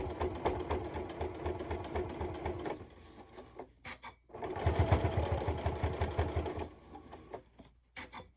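A sewing machine stitches slowly across the zipper ends of a berry carry-all case, its close, steady mechanical whirr running in two bursts separated by a short pause and trailing off near the end.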